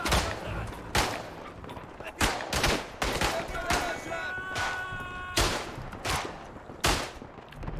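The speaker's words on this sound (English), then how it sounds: "someone's shooting at me" Gunfire in the World War I shooter game Tannenberg: loud, sharp rifle shots ring out singly at irregular intervals, some close and some farther off, over a busy battlefield background.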